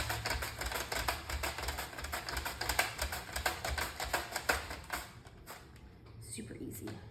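Onion pieces run across a kitchen mandolin slicer while cooking Cuban bistec encebollado, making a rapid, steady run of close, crisp scraping clicks that stops near the end.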